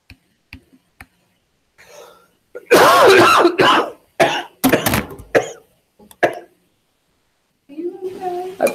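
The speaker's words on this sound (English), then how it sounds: "I've been coughing since November." A harsh burst of coughing from a lingering months-long cough, several rough coughs in quick succession, then scattered throat clearing and small noises, with a voice briefly at the end.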